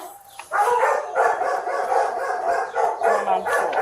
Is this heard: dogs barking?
yes